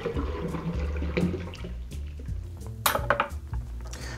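Cranberry juice is poured from a container while a frozen cocktail is mixed, making a steady splashing liquid stream with light clinks of glassware and kitchen items.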